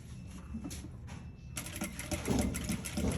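A sewing machine stitches a curved seam in fabric, its mechanical whirr starting faintly and turning louder and steadier in the second half, close to the microphone.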